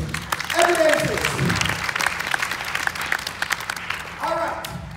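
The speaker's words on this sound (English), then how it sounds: "Let's clap our hands for these evidences." A church congregation claps hands during a sermon, a steady wash of applause with a couple of voices calling out over it at the start and again near the end.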